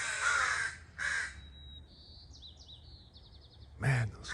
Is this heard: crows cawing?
yes